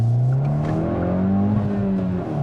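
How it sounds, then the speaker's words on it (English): A 2021 Hyundai i20 N engine revs while driving, a close, steady buzzing drone that rises and falls in pitch as the car accelerates, heard alone without talk. "Pleasing little buzz in the engine. Nice sound. Nice sound. 60s sports car-esque."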